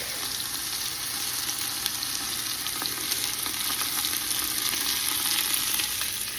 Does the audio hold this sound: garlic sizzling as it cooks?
yes